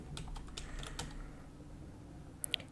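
A computer keyboard clatters with quick, light keystrokes as a game pass name is typed, falling into a brief pause, then two sharp clicks at the end; quiet and close.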